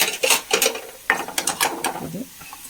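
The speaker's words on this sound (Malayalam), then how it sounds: "ഗ്യാസ് ഓഫ് ചെയ്യാം" A gas stove knob being turned off, producing a few close, quick ratcheting clicks and small mechanical snaps in a short sequence.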